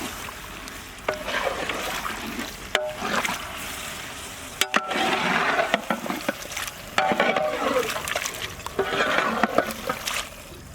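Goat head curry pieces frying in oil in a pot hiss and sizzle as a little water is added, with intermittent stirring clatter and scraping of a utensil against the pan, fairly close and without talk.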